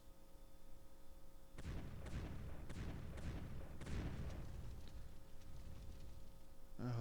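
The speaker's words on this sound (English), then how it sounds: "They're bombarding my city, I guess." Artillery bombardment pounding a city in a war strategy game, a run of heavy booming blasts in quick succession with decaying rumbles, steady and loud over a low background hum.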